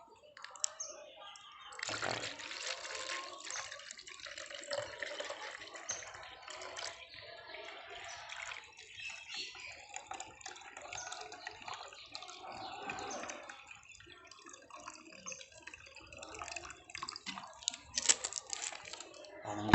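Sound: pouring one litre of plain water to mix

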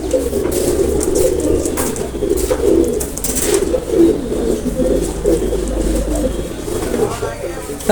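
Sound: pigeons cooing

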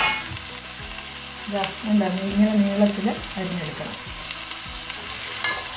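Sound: chopped brinjal (eggplant) added to hot pan, sizzling

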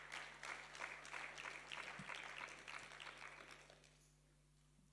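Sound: congregation applause

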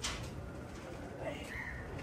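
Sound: pigeon

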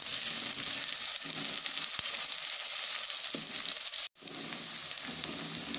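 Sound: onions frying with whole spices

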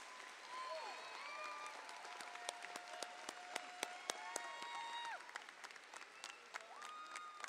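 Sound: applause for graduating valedictorian

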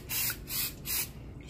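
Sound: cooking spray sprayed onto a non-stick pan

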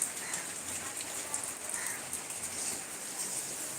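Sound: rain falling outside

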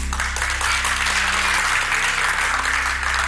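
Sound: studio audience applause

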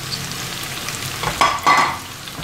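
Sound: onion, ginger and garlic frying for beef bhuna

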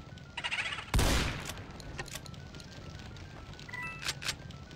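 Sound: shotgun blasts in Doom mod video game

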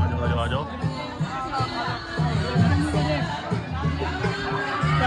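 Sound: crowd at Karachi Zoo on Eid day

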